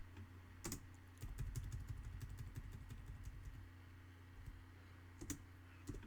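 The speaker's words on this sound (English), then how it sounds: "I'm typing with one hand here." Typing on a computer keyboard with one hand, quiet clustered key clicks in a short burst followed by a few isolated taps over a low background hum.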